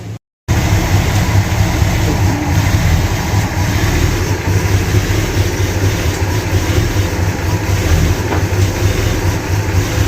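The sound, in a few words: old muscle car engine idling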